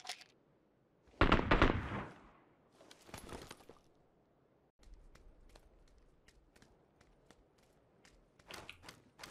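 Loud shotgun blasts in an online shooter game: two heavy booming bursts early on, then a run of sharp, quieter clicks and thuds, with another cluster of bangs near the end.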